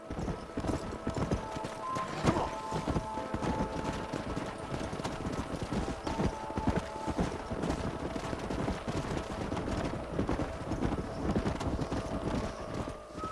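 A herd of horses in the Western video game Red Dead Redemption trots along with continuous overlapping hoof clip-clops, occasional whinnies, and light wind throughout.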